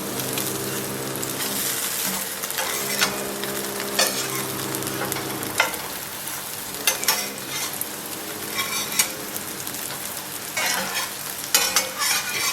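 Lithuanian curd patties fry in oil in a pan, giving a steady close sizzle broken by scraping, stirring and turning sounds, with no talking.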